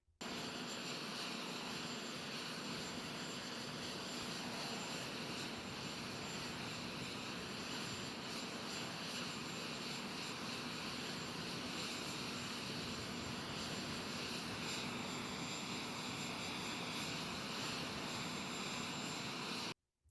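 Air Force One jet aircraft engine running as a constant, even roar with a faint high whine, unbroken for twenty seconds and fairly quiet, with no voices.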